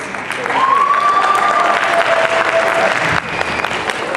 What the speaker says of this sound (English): Another round of applause for the wonderful performance.